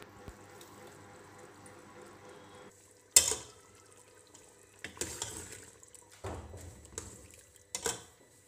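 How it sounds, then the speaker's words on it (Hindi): Masala is fried and stirred in oil in a pan, soft sizzling under intermittent scraping and clattering stirs, fairly quiet and close. "और इसको अच्छी तरह से भून लेना है।"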